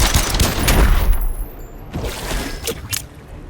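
Gunfire bursts in an Injustice 2 fight intro, a rapid volley of sharp, loud shots close up that tails off into scattered cracks and metallic rattles.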